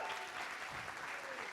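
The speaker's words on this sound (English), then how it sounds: "A round of applause for her." Audience applause at a launch event, a steady wash of many hands clapping that is fairly faint and continuous, with no voices over it.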